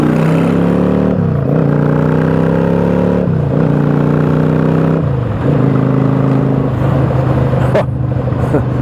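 A Yamaha V Star cruiser motorcycle engine revs and accelerates through repeated gear shifts, each pull rising in pitch before dropping back, loud and close with steady wind noise throughout.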